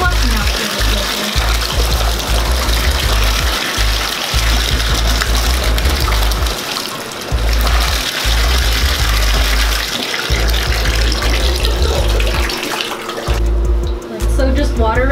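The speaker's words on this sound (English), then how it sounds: "So just water rinsing it gets it out pretty well" Water runs steadily as makeup is rinsed out of hair in a sink or tub, a loud continuous splashing stream broken by brief pauses, with a person talking over it.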